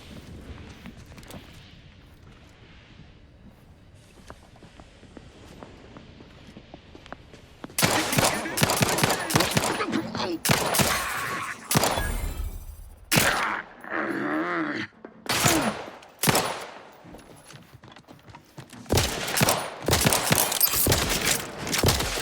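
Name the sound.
gunfire from a gun in the video game Outer Worlds 2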